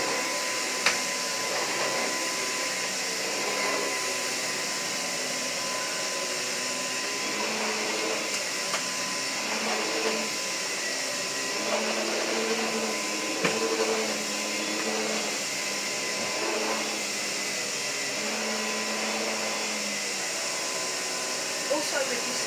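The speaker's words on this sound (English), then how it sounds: "I'll just hold it like that, and I can hoover." A Henry vacuum cleaner running with a modified, cable-tied hose: a steady, loud whooshing motor roar holds throughout, with faint knocks and scrapes from the hose as it is moved.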